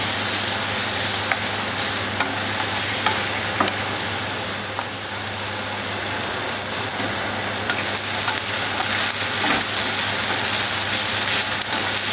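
Diced chicken fries in a hot pan with a loud, steady sizzle and crackle that fills the whole stretch, close and continuous with no voices.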